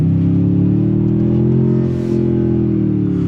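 A Toyota Tundra TRD Pro engine in sport mode gives a loud, steady low exhaust rumble that holds close and even, rising slightly and then dipping briefly near the end.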